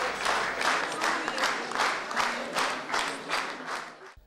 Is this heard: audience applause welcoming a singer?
yes